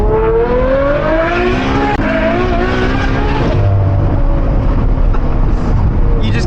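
Straight-piped Ferrari V12 revving hard and loud up close, with a rising engine note that drops and climbs again through the gears, and tire noise underneath.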